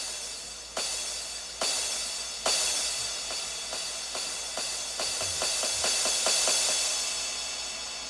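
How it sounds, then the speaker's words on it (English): A noisy, hissing crash sound swells and repeats, its hits coming slowly at first and then faster, building steadily in a rising sweep. "like it's a building crash sound, and it goes up for the first 2 bars"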